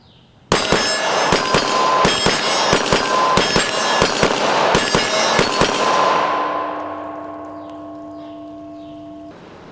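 Rapid pistol shots from a Glock 17 ring off a steel target about 35 feet away, a fast string of sharp cracks each paired with a metallic clang, ending in a long fading ring of the steel.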